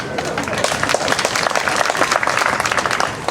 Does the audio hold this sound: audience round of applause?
yes